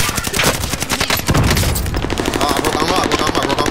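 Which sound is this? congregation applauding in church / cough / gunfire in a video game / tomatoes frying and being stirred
gunfire in a video game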